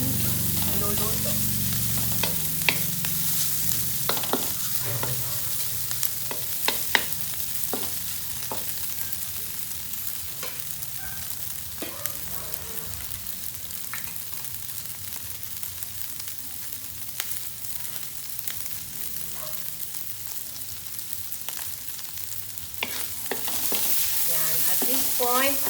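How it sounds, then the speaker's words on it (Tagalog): Sauce for baked macaroni being stirred in a hot pan as seasonings combine, with a continuous loud sizzle and frequent scraping clinks of a utensil throughout. "Haluin lang para mag-combine yung mga seasoning niya at sumarap ang ating niluluto."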